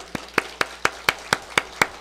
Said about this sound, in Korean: 우리 너무 샬롬샘 잘 오셨다고 우리 따뜻한 박수로 환영하겠습니다